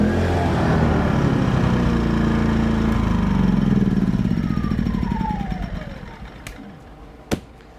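An Atima AY2000i inverter generator engine starts up and runs at a steady, loud drone, then the running note slides away and dies as the motor is killed, ending with a sharp click.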